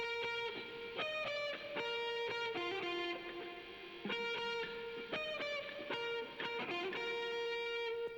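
A softer harmony line on guitar, played as an added layer over a song melody, rings out in clear phrased notes at a moderate, even level with no talk.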